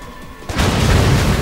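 A loud, booming blast in the video game Stranglehold rips in about halfway through as beams are blown apart, its dense crashing rumble sustaining to the end after a quieter stretch.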